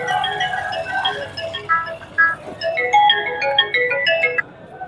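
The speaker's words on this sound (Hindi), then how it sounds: "फोन किसका बज रहा है" A mobile phone ringtone rings at a potato market: a bright, repeating electronic melody of ringing tones, fairly loud and near, with some voices in the background.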